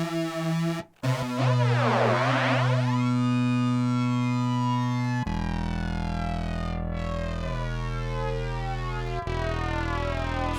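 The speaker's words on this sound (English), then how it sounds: "now a chorus flanger" A Yamaha Reface CS virtual-analog synthesizer plays sustained tones through a chorus flanger effect, giving a buzzy, distorted sound with sweeping jet-like comb swirls and shifting pitches, loud and continuous with no talking.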